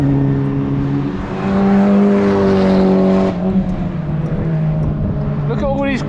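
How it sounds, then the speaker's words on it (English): Class B race cars circle the Anglesey circuit on a cold test day, their engines droning loudly and steadily with a rising pass around the middle, ending in a higher-pitched whine. "Look at all these Class B cars"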